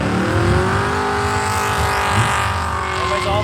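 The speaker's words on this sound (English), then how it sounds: "and we got burnouts going on" Cars doing burnouts at a crowded car event, a continuous loud roar of revving engines with squealing tires that holds steady throughout with no pauses.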